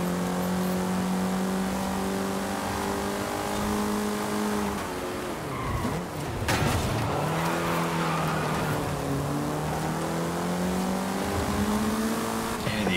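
A car in the racing game Forza Horizon 5 accelerates in a Seasonal Championships race, with a steady, loud engine drone that rises and falls through the gears and a brief tire-skid break near the middle.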